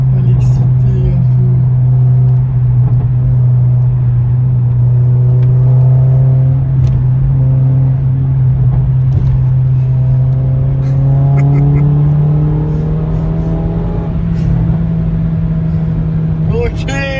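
A Mercedes CLA45 AMG pulls hard on the road, its engine a steady, loud drone that climbs slowly in pitch as it gains speed, with voices faintly present.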